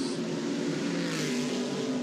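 Aston Martin race car accelerating out of the Lisboa corner at the Macau Grand Prix, a steady loud engine growl holding a low droning pitch throughout.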